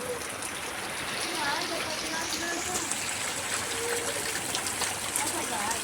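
Water flows and falls outdoors in a lush green setting, a steady rushing wash at moderate distance, with a voice heard faintly beneath it.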